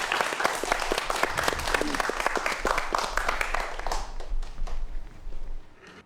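A lecture audience breaks into a dense burst of applause to welcome a professor's talk, the many claps sustained for several seconds before thinning out and fading near the end.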